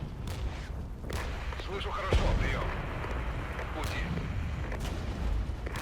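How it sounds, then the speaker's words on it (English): Mortar fire in the Regiments war game, a series of distant muffled booms and rumbling impacts over a continuous battlefield background. "So that's mortars"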